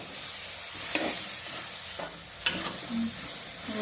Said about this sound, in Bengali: এটা মিক্স বানিয়ে এটার মধ্যে এখন ঢেলে দিচ্ছি। এখন সব মিলিয়ে নিচ্ছি ভালো করে।